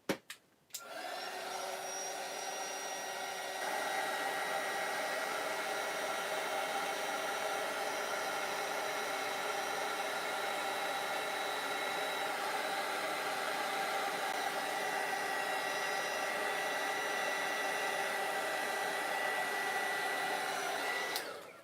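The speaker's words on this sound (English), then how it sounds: "I'm going to use my air dryer, not hair dryer." A handheld air dryer blows steadily on black acrylic paint, a loud, constant rushing whine with a faint tonal hum that starts abruptly and runs without pause for about twenty seconds.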